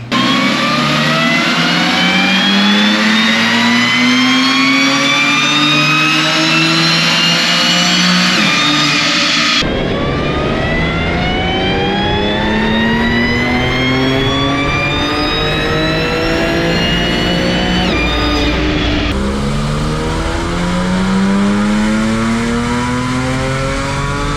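An Audi B8 S4 engine fitted with a dual pulley and throttle body revs hard on a dyno, climbing loudly through the gears in three long rising pulls with a steady, close, aggressive tone.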